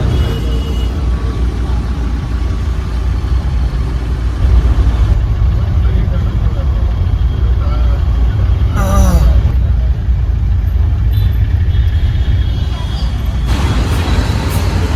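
Steady rumble of a car moving through Mumbai traffic toward Andheri, a continuous low engine and road drone with broadband hiss, fairly loud and unbroken throughout.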